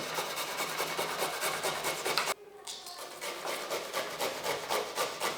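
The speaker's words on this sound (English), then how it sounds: "So you're grating? Yep, so I've grated my cucumber." Cucumber for tzatziki rubbed against a grater in quick rhythmic rasping strokes, close and steady, with a short pause midway before the grating resumes.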